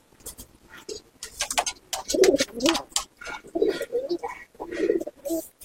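Racing homer pigeons in a Kolkata loft coo in repeated soft, throaty rolling phrases, close and clear, with several birds overlapping in bursts.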